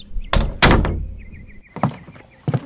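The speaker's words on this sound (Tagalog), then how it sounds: "Pagkasarado ng pinto sa aming kwarto, tinanong ko agad si Luis." A room door is shut, giving a couple of loud wooden thunks and rattles followed by a few softer knocks and taps nearby, with short gaps of quiet.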